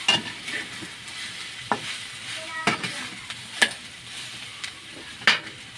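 Kulambutan being stirred in a pan, with soft sizzling under repeated scraping strokes of a spoon, faint and close, without talk.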